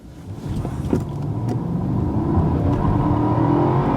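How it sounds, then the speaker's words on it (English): A Mercedes S500 W222 with a V8 engine pulls away hard in an acceleration test, its engine note rising from a low growl into a loud, building roar over a few seconds, heard from inside the car. "So we are now going to do the acceleration test."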